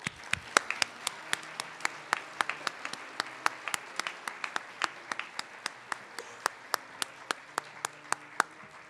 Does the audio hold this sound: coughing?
no